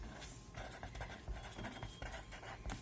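Pen scratching across paper while a math problem on the surface area of a cube is worked out, giving faint, continuous scribbling strokes with short pauses between them.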